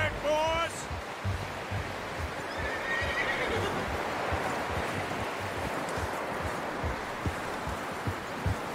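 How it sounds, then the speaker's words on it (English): A horse in the video game Red Dead Redemption 2 gives a loud, shaky whinny at the start, then hooves clop steadily under a wash of outdoor ambience. "You should really tether that horse, Arthur."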